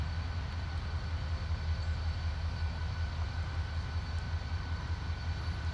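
Freight train with grain hoppers switching in the rain, a steady low rumble of idling locomotive and rolling cars with faint hiss, continuous and at moderate distance.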